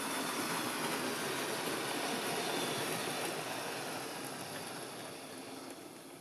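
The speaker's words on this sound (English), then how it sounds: "a pretty smooth running locomotive" A Hornby tender-driven LNER A3 model locomotive in wartime black runs along the track: a continuous close rolling rumble and whir that gradually fades as the engine slows to a stop, with no talking.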